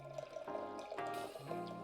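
Juice and spirits poured into a cocktail shaker for a mimosa, several short pouring bursts of liquid splashing over ice, close and fairly quiet with no talking.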